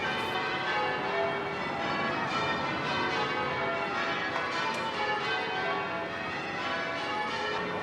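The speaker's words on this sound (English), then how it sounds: "Please excuse the bells," Church bells ring at Edinburgh's Christmas market, a dense, continuous peal of overlapping tolls filling the scene at moderate loudness, with no voices over them.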